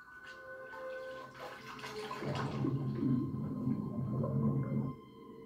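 Water runs in a steady rush for a few seconds during rinsing, preceded by faint hum and stopping abruptly, heard close with no talk.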